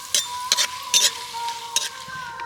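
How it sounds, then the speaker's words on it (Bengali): Black mustard seeds and two dried red chillies crackling in hot oil, close by, with sharp bursts of popping spattering over a steady sizzle and no voices. "সর্ষে ফাটা শুরু হয়ে গেছে"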